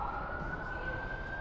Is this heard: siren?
yes